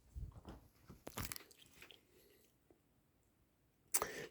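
An elderly mother chewing food, soft close crunches and bites in short bursts with quiet pauses between them, and a sharper click at the end.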